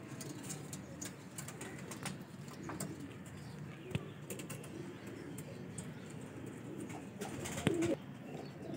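Baby pigeons kept by a fancier in Lahore give soft, intermittent coos and small chirps close by, over a low background murmur, with a brief louder call near the end.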